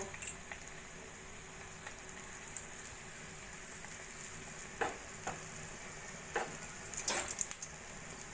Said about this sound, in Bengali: এইভাবে একদম লো ফ্লেমে বেগুনিগুলো ভেজে নেবো